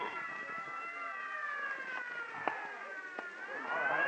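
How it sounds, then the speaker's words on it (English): An ambulance siren wails in a steady rising and falling tone, fairly close, over faint background noise, with a few sharp knocks partway through and no clear talk. "Clear the way for the ambulance."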